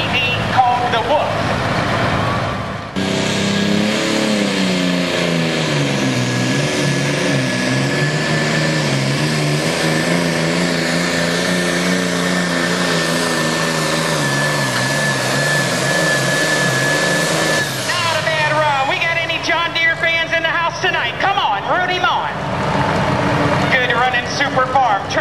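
An International 54 DDP tractor nicknamed the Wolf roars under load at a tractor pull, a loud sustained engine howl with shifting pitch lasting most of the run before dropping off, with a crowd and announcer audible around it.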